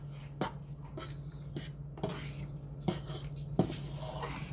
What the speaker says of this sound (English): Just gonna give this a stir.